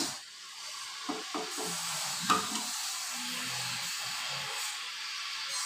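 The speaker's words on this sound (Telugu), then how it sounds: "నేనైతే పప్పుచారులో తాలింపు వేస్తున్నాను." A tempering sizzles in a pan for dal rasam (pappu charu). It is an even, steady hiss with a few soft stirring knocks and no talk.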